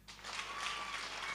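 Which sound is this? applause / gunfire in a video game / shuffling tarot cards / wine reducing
applause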